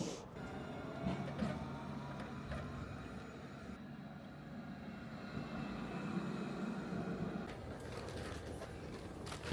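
Steady rumble and hum inside Nottingham NET tram number 223 while riding, with mechanical creaks and rattles over continuous motor and wheel noise, no talking.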